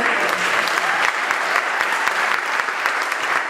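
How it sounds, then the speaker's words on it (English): An audience claps at an interfaith awareness week presentation, producing dense, even applause at a steady level with crisp individual claps and no talk. "So give them an applause."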